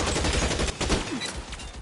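Gunfire in the video game L.A. Noire: a dense, continuous fusillade of rapid shots, loud and close throughout.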